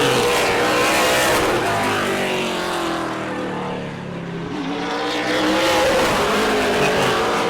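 A super late model race car engine roars loudly during qualifying at Auburndale, a sustained high-pitched drone that dips briefly as the car passes and then swells again.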